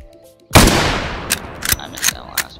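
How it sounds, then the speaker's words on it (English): A rifle fires in a Minecraft guns mod game: one sharp blast with a decaying tail, followed by several quicker, quieter shots at close range. "this is the champ rifle"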